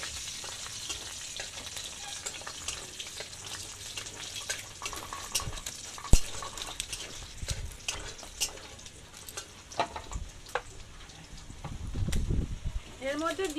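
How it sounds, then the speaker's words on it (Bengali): Whole peeled garlic frying in a pan, a steady oily sizzle running throughout with occasional stirring clatter, while a person talks over it. "গোটা রসুন ছাড়িয়ে নিয়েছি, ওগুলো ভেজে নেব।"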